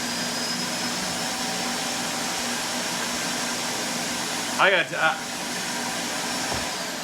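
A Roomba i7 robot vacuum at its base emptying its bin, a loud steady suction roar that carries throughout, with a brief rising whine and burst of change near the end.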